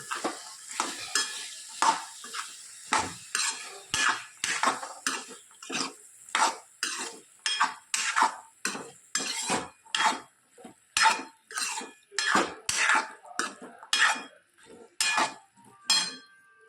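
Boiled chickpeas are stirred into a pot of spiced masala, with around twenty evenly spaced scraping spoon strokes over a soft sizzle and occasional metal clinks.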